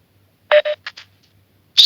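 Telephone keypad dialing tones heard while a caller is being connected: a few short separate beeps in an uneven rhythm, fairly loud against silence, then a brief burst of another tone near the end.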